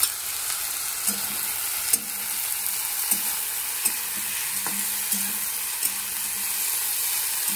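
Onions frying in oil with cumin and radhuni, a steady close sizzle broken by regular light clinks and scrapes of a spoon stirring the pan, no talking.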